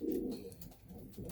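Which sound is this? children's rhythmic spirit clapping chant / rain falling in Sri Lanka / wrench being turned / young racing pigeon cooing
young racing pigeon cooing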